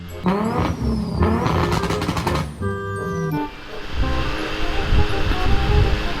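A Kawasaki ZH2 motorcycle is ridden, its engine revving up through rising and falling gear pitches, then settling into a lower rumble under rushing wind noise, loud and close.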